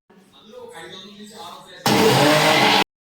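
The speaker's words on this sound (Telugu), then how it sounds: "దీన్ని మిక్సీ పట్టుకున్నాం." A loud mixer grinder whirs for about a second near the end, grinding coriander, mint and curry leaves, following a stretch of talking and kitchen noise, then cuts off abruptly.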